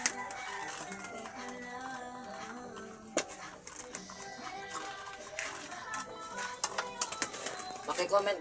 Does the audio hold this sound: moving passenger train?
no